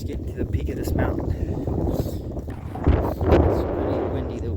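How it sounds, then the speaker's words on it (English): Cold, strong wind buffets the microphone on a mountain peak in Utah, a continuous rumbling roar with gusts that swell toward the end. "It's pretty windy. The wind is like freezing cold."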